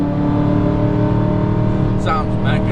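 A supercharged BMW M3 engine drones steadily at high load on the Nürburgring, a loud continuous in-car roar with a brief higher whine near the end.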